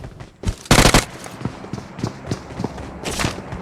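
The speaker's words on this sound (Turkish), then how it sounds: "Dur bomba atıyorum" A grenade thrown in PUBG Mobile bursts with a loud blast, followed by a scatter of sharp impacts and scattered gunshots, with another loud burst near the end.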